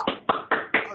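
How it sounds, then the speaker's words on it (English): Applause from a live virtual audience of marketing executives, four separate sharp clap-like hits at an even pace, close and dry, with nothing else heard. "we have a live audience of CMOs who will join me with questions and right now with applause to welcome Michelle Beebe to the show"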